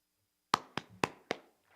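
Four sharp, separate claps from a lone person at a community meet-up, close and evenly spaced after a short silence.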